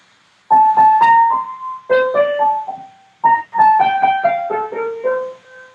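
Opening melody of Kevin Puts' flute concerto, a lyrical, irregularly phrased single line played solo in clear, close phrases separated by short pauses.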